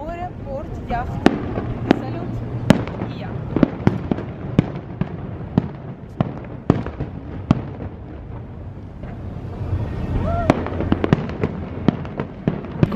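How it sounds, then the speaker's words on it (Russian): Fireworks burst at night over a seaside port during a festival, with sharp irregular pops and bangs of varying loudness over a constant rumbling background, and crowd voices murmuring throughout. "И только прекрасный салют."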